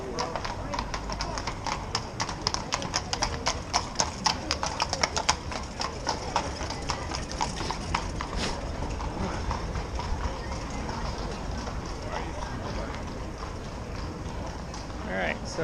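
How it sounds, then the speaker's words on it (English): Horse hooves clip-clop steadily on a Vienna street in the evening, a close, rhythmic run of sharp taps that is loudest early on and then fades further back, with people talking over it. "hopefully I don't get killed by a horse."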